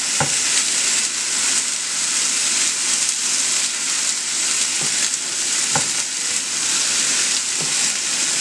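Vegetables frying with red link sausage in a pan, a steady close sizzle throughout with a few sharp clicks and stirring knocks, no talking.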